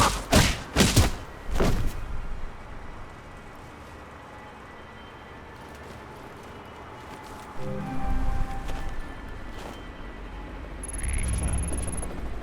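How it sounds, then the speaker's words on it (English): Explosions in the game Alpha Protocol during an embassy shootout: a few sharp, loud blasts at the start, then quieter rumbling and thuds later on. "Ah, explosions."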